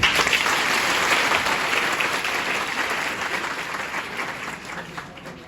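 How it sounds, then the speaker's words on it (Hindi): Schoolchildren applaud at a ceremony for selected students, a loud, steady wash of many hands clapping together that tapers slightly toward the end, with no talking over it. "एक बार जोर ताली बच्चों"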